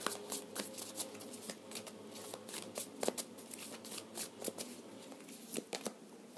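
Tarot cards are shuffled in a steady, close run of papery riffles and soft flicks that continues without pause, with no talking over it.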